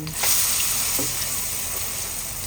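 A cha-om omelette, made with eggs and acacia leaves, fries in hot oil in a pan with a steady, even sizzle that runs throughout.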